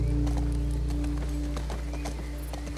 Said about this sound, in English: Riding horses with my best bud.